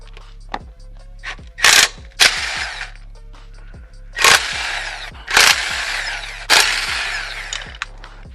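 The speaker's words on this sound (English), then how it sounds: "all right, got the lug nuts off." An impact wrench with a 19 mm socket removing lug nuts from a Nissan 240SX wheel, loud short bursts of whirring and rattling, several in a row, with clicks and pauses between them.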